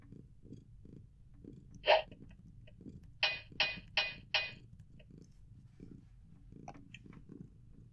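A cat named Garnet purrs in a low, steady rumble, broken by several brief louder mews or squeaks, with a quick cluster of four near the middle, all close and fairly quiet.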